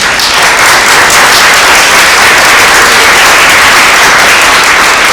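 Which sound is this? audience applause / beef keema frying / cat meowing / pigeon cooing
audience applause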